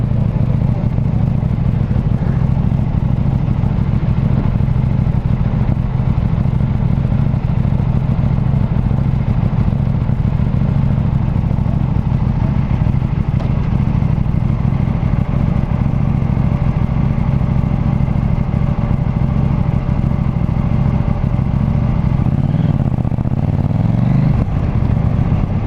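KTM Duke 790 motorcycle engine running steadily while riding, a loud continuous low drone with wind rumble throughout and a slight change near the end, no talk.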